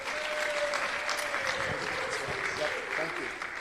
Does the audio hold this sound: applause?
yes